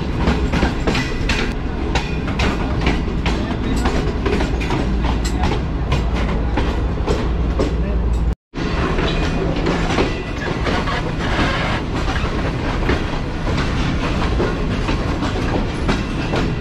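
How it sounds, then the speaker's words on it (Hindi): A Green Line Express train runs toward Lahore Junction with a loud, continuous rumble and rhythmic clatter of wheels on rails, broken by one brief dropout midway. "ट्रेन जो है वो 4:10 पर पहुंच रही है लाहौर जंक्शन रेलवे स्टेशन की प्लेटफॉर्म नंबर 2 पर"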